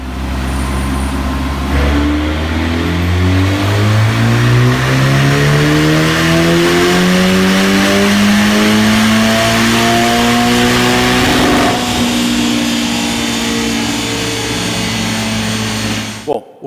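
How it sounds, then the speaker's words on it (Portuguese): Ferrari Portofino with the F154 V8 accelerates hard, its engine note climbing steadily through the gears in a loud, close roar, briefly easing around a shift before pulling again. "talvez a única decepção aqui do F154, desse novo motor, seja o ronco que sai aqui das ponteiras"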